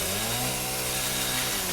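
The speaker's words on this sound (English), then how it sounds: "Bro, we are really gonna have the chainsaw now" A chainsaw in Resident Evil 7 runs steadily throughout, its engine droning at constant loud revs with strong harmonic buzz and no voices over it.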